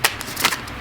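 A card is drawn from a tarot-style deck, giving a brief soft papery shuffle and slide made of two quick rustling bursts close to the listener, with no speech.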